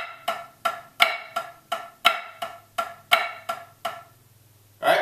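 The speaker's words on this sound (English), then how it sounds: "The first measure is going to be straight up flam accents." A snare drum plays flam accents in triplets, crisp, close strokes in a steady rolling rhythm with accented flams on the downbeats, ending in a short pause before a brief final sound.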